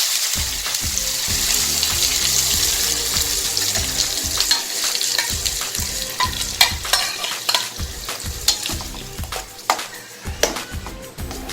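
Ground masala paste for egg curry fries in a pan with curry leaves, steady sizzling with repeated scraping and stirring strokes and occasional clinks of a utensil, close by and fairly loud.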